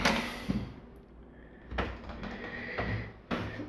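A sealed, watertight sliding door in a Japanese bathroom rolls and knocks shut, giving a few close thuds and rattles against a quiet room.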